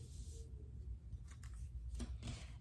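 Scissors snip through fabric while cutting welt pocket lip pieces, a few quiet crisp cuts near the start and again toward the end, close by and faint, with no talking.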